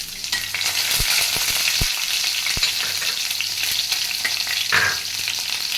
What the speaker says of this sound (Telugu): శనగపప్పు మినపప్పు వేగిపోయినాయి అందులో సన్నగా కట్ చేసి పెట్టుకున్న పచ్చిమిరపకాయ ముక్కలు